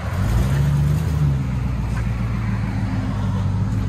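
A Ford F-250 with a 5.4L Triton V8 and a Carven R-Series muffler runs close by, a deep low exhaust rumble that swells briefly early on, then settles to a steady drone.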